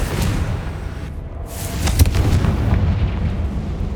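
A Confringo explosive spell blasts in the video game Hogwarts Legacy, giving a deep rumbling boom with a sharper burst in the middle over continuous low game noise.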